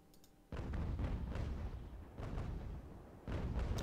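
Broadside cannon fire from sailing warships in a naval battle against pirate ships in Ultimate Admiral: Age of Sail, heavy booming blasts rolling in several waves, loud and close with rumbling decay between volleys.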